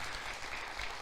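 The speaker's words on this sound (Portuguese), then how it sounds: "E eu aplaudo o Senhor." Applause in a church: a faint, steady patter of clapping from a congregation, heard at a distance and lasting about a second.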